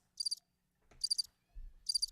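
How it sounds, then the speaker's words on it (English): A cricket-chirp sound effect is played on a sounder, giving three short bursts of rapid chirps spaced about a second apart, with faint low thumps between them. "There are the crickets."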